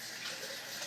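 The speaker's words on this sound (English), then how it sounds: "Let me add a little bit of water to thin this out" Water poured into a pan of Tuscan chicken pasta sauce to thin it, a steady rushing splash that holds evenly throughout with no talk.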